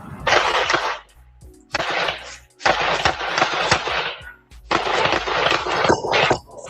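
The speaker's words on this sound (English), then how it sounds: "A Ring doorbell capturing the sound of more than 10 gunshots" Loud bursts of rapid gunfire, more than 10 shots, in several volleys separated by short pauses, sharp and close, captured by a Ring doorbell camera, with no talking.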